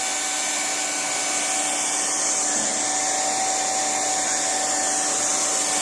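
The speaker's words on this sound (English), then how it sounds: "at this point we're going to go ahead and get the extruder going" Loud, steady blowing roar with a constant whine from a plastic welding extruder and its heat gun set at 450 degrees, running on without pause and with no talk.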